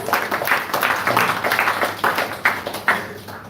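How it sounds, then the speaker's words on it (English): Audience applause for a kirtan performer at a Hare Krishna gathering during Kartik, a steady patter of many hands clapping at moderate volume for several seconds, with a few sharper individual claps near the end. "So let's give Prabhu a huge round of applause."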